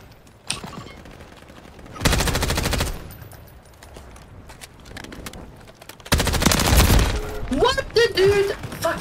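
Video game gunfire rattles out in two rapid automatic bursts of a second or so each, loud and close, separated by quieter stretches, with a player's voice speaking near the end.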